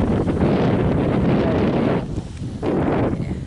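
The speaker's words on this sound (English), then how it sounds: "just a little windy out here" Strong wind at Wilson Lake buffeting the microphone in loud, rough gusts, briefly easing near the end before picking up again.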